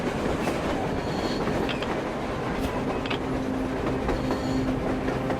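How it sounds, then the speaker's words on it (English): A train passes in the post-apocalyptic video game Metro Exodus, giving a continuous rattling clickety-clack of wheels on rails at moderate distance, steady throughout with no speech. "A train! A damn train on the surface!"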